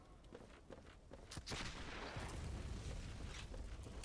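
Booming cannon blasts and bursts of gunfire in Bloodborne's Forbidden Woods crackle in quick succession, building into a sustained rumbling barrage with no talking.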